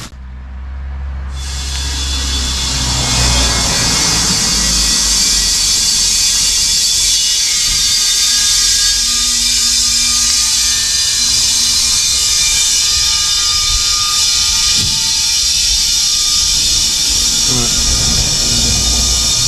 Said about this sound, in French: Là, on commence à récupérer du gaz.